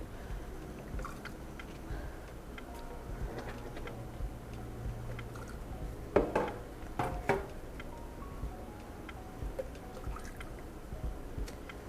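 Water drips and splashes from purple-dyed yarn wrung out over a dye pan, a faint steady trickle with a few louder spattering bursts midway, no talking.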